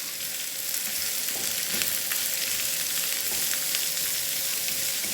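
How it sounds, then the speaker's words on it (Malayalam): Onions sautéing in a pan for a clam roast, a loud, dense sizzle held steady throughout with faint stirring scrapes underneath and no talking. "ഇനി സവാളയും കൂടി ചേർത്ത് നന്നായിട്ടൊന്ന് വഴറ്റിയെടുക്കാം."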